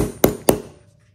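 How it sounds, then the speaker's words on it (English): Two sharp hammer blows strike a hole punch to make a grommet hole in a fabric bag, evenly spaced and close, each with a short ringing decay. "hammer it until it makes the hole"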